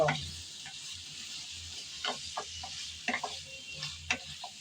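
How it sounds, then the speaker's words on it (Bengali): Chicken stirs and fries in a pan with a low, continuous sizzle, broken by several scraping and tapping strokes of a spatula at uneven intervals. "এখন দিয়ে দেব চিকেন চিকেনটা দিয়ে ভালোভাবে নেড়ে চেড়ে কষিয়ে নেব"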